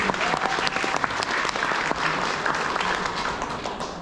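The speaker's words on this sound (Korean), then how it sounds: "다시 한번 뜨거운 박수 부탁드리도록 하겠습니다" Wedding guests at a Korean ceremony give a full round of applause right after the officiant's address, many hands clapping steadily and evenly for several seconds with individual sharp claps popping out of the crowd.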